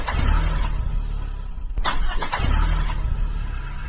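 A car out of fuel is cranked in an attempt to start it, the starter churning with a sharp burst partway through, close and loud, but the engine does not catch.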